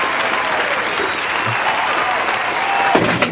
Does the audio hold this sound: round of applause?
yes